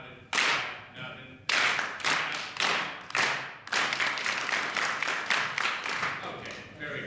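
A lecture-hall audience claps along in unison during a bodhrán session, loud sharp group claps in a steady rhythm with a few stray claps scattered among them, no talking.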